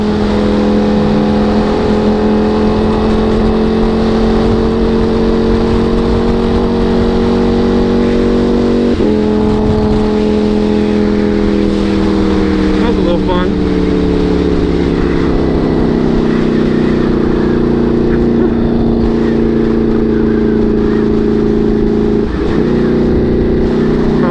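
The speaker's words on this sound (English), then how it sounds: "I don't think I've ever missed a tunnel rev pull." A motorcycle revs hard inside a road tunnel, its loud sustained engine note rising and falling with gear changes and echoing off the walls, close and continuous throughout with no talking.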